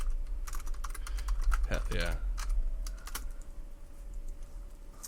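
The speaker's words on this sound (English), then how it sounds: "the sound of my typing appearing in my waveform" Fast clicking keystrokes on a computer keyboard, a close and steady run of taps that goes on throughout, with a brief spoken exclamation in the middle.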